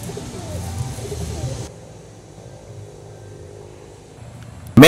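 Pigeons or doves coo softly in the open grounds of a restaurant compound with rabbits and birds, low and steady over faint background hum, ending in a sudden loud noise.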